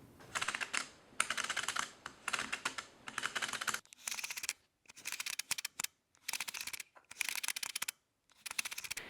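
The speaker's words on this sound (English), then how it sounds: "You can hear the click of the lens plus a click after that inside the camera." A Nikon D800 fitted with a non-CPU lens clicks continuously in quick, dense bursts separated by short pauses, close and crisp, with the lens clicking and further clicking from inside the camera body.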